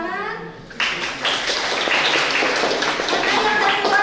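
Audience applause at a youth entrepreneurship lecture at Universitas Sebelas April in Sumedang breaks out after a short, quieter lead-in and builds into a dense, steady clatter of many hands that fills the rest of the moment.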